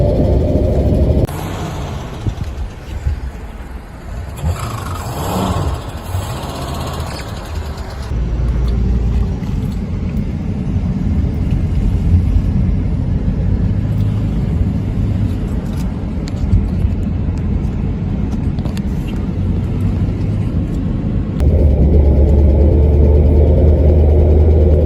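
A 1964 Ford Falcon's engine runs steadily while driving on its first drive in 47 years, a loud, continuous mid-range rumble with shifting pitch and a heavier low growl near the end.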